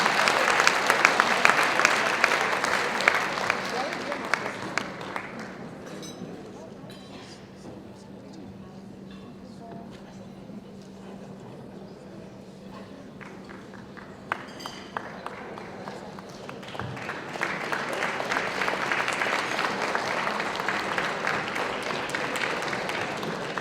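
Crowd applause at the IPM 2019 Awards ceremony for a Practitioner of the Year winner. Clapping is loud at the start, fades to a low murmur under an announcer's talk, then swells back up strongly near the end.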